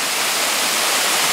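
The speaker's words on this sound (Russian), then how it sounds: "Вот мы подходим к водопаду Гук." Hook waterfall in the Carpathians, about 15 metres high, roaring as a dense, steady rush of falling water that fills the air loudly and evenly with no break or voices.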